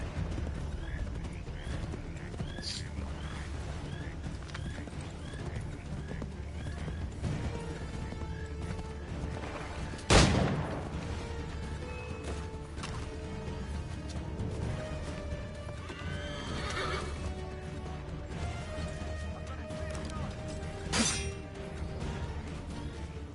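Horse in Assassin's Creed III Remastered, with steady clip-clop hoofbeats running under game music and ambience, a sharp crash near the middle and a brief whinny-like call later on.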